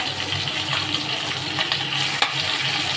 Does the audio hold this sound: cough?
no